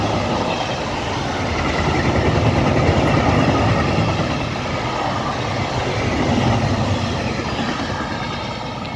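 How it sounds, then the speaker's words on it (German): A German freight train hauled by a class 185 electric locomotive rolls through Langenselbold, a steady, loud rumble of wagons and wheels on rail that swells and eases slightly throughout, with no voices. "jetzt vermischen wir einen Güterzug Deutschland in Langsäbold. Das ist BR 185er."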